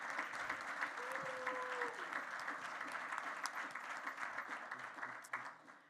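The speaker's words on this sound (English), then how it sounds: "let's give a round of applause for all of our strategic alliances." A conference audience claps in a sustained round of applause, dense and even from start to finish, with a few voices faintly audible underneath.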